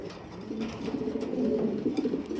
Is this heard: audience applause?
no